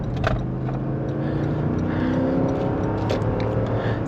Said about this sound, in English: the VS got some good torque, and if we floor it here a little bit